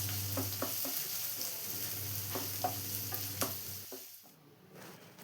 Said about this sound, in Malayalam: ഇനി ഇതെല്ലാം കൂടി നന്നായി തന്നെ ഒന്ന് ഫ്രൈ ചെയ്തെടുക്കാം